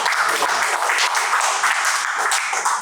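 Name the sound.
applause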